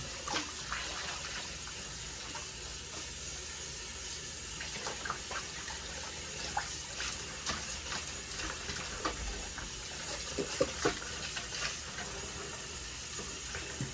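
Wigs rinsed under running water, a steady faint stream hiss with scattered small splashes and handling clicks throughout, quiet and close with no talk.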